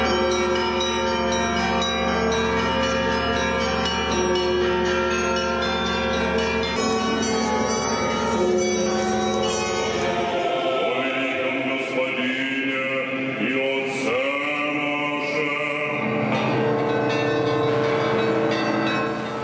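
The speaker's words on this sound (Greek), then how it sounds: "Οι καμπάνες του καθεδρικού ναού του Σωτήρος Χριστού χτυπούν χαρμόσυνα." Church bells of Moscow's Cathedral of Christ the Saviour peal loudly and continuously for the Easter service, dense overlapping clangs ringing without pause and shifting into a brighter, busier chime partway through.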